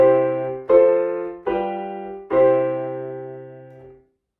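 Middle C, a sustained harmonic tone, is struck four times in a row, each note ringing and slowly fading, with no voices.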